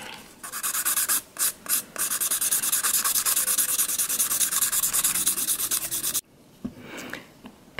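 Nail file rapidly filing a gel nail extension, a close, brisk back-and-forth scratching in fast even strokes, pausing briefly twice and stopping near the end.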